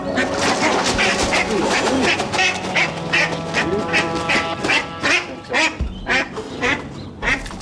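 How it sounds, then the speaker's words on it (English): Ducks and ducklings quack loudly and continuously, a dense chorus of overlapping calls from a mother duck and her brood being rounded up into a holding cage, with some talk mixed in. "But the ducklings are showing no signs of coming quietly."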